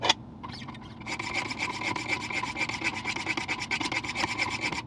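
Sharpening stones on a Wicked Edge Generation 4 Pro sharpener make rapid alternating rasping strokes along a knife blade, a close, steady scraping rhythm after a brief pause at the start.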